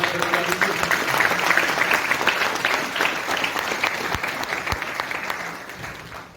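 A seminar audience in Ghazipur applauds loudly, a thick burst of many hands clapping that holds strong, then thins and fades toward the end.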